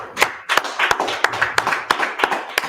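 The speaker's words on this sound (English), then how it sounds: "Let's clap it up." An audience at a religious teaching session claps in a loose, sparse rhythm, with distinct sharp claps roughly every third of a second, moderately close and without speech.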